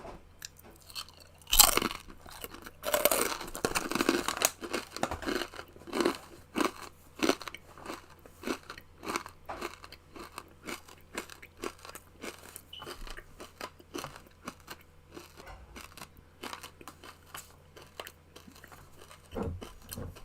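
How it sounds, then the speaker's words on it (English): Loud, close crunching and chewing of a large crispy snack, starting with a sharp bite and continuing as steady crackly mastication for about twenty seconds, with no talking. "I will eat the gargantuan crispy snack"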